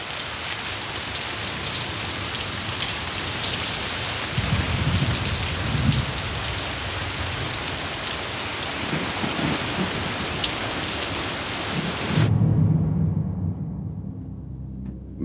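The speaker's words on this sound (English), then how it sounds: "It fell in boiling downpours for millions of years." A heavy, steady downpour hisses densely and loudly for a long stretch, with a low rumble like distant thunder beneath it, before cutting off abruptly near the end.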